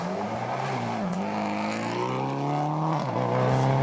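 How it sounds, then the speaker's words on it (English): A Mitsubishi Lancer rally car on a European Rally Championship stage in Austria, its engine revving hard and rising and falling in pitch through gear changes, loud and close, with no talk. "Kajetan Kajetanovic in his Mitsubishi Lancer."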